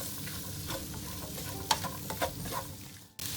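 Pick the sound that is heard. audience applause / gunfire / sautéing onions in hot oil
sautéing onions in hot oil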